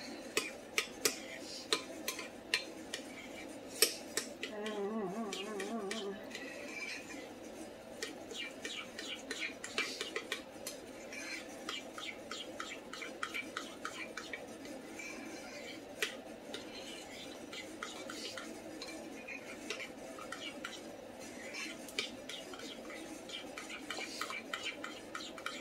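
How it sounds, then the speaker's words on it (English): Continuous clinking and scraping of a utensil against a bowl while stirring sour cream and lime sauce for pork taquitos, close and moderately quiet, with a steady irregular tapping rhythm and faint talk. "Stir it up."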